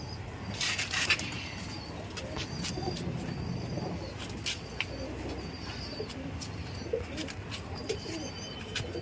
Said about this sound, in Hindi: ये मोती वालों की ब्रीड है। ये भी बाहर के कबूतर हैं, जी हाँ, सऊदी ये के।